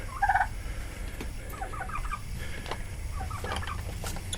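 Poultry in a roughly 5 by 7 foot coop holding seven or eight birds, with a short loud burst of clucking and gobbling near the start, then scattered softer calls over a steady low background rumble.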